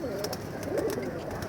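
Pigeons coo on a rooftop in several soft, throaty calls, close by and overlapping, over a low background murmur.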